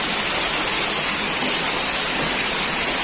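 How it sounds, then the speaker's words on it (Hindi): Heavy, extremely hard rainfall in Kolhapur, a dense, steady roar of rain hissing close by without a break, no voices heard. "बहुत तेज बारिश हो रही है, एक्सट्रीमली हार्ड, देखो कितनी तेज बारिश हो रही है।"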